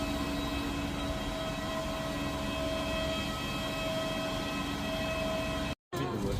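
Steady broadband cabin drone of an AirAsia airliner in flight to Johor Bahru, loud and constant throughout with a brief dropout near the end.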